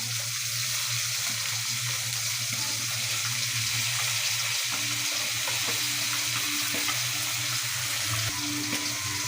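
Boiled greens, cut and washed, frying in hot oil as a Bengali tempering, a steady loud sizzle running throughout with faint stirring and kitchen clatter, no talk.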